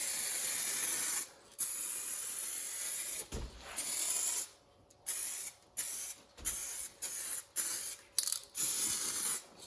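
Clear coat sprayed from an aerosol can onto 1989 Kawasaki Ninja ZX7 motorcycle parts, a close hissing spray in repeated bursts of varied length with short pauses between them.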